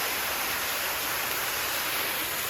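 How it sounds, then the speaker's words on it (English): Waterfall along a hiking trail, a steady broadband rush of falling water, close and continuous with no pauses and no voices. "The first waterfall on the trail."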